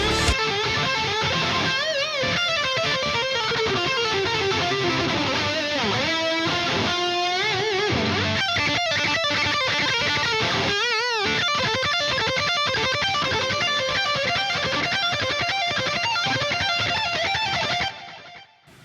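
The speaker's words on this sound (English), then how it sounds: "That's the lead guitar sound." Lead electric guitar played through a Jason Maynard Zakk Wylde amp boosted by a Boss SD1 overdrive pedal, with sustained, bending distorted notes and vibrato across a long solo passage that stays loud throughout, with no talking.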